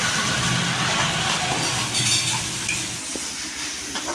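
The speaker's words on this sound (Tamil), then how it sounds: "போட்டு எல்லாத்தையும் நல்லா கலரணும்" Blood fry sizzles loudly in a pan as extra ground pepper is stirred through it. A dense, steady hiss of frying continues under constant close scraping and stirring.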